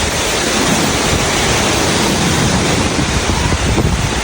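Strong typhoon wind, a loud continuous roaring rush that buffets the microphone without pause, with no voices.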